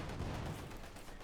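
Dense gunfire in Company of Heroes 2, troops cut down around a central victory point, a continuous rumbling barrage of overlapping shots and booms at moderate distance with no voices.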